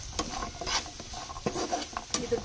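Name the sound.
stirring paneer into a frying pan mixture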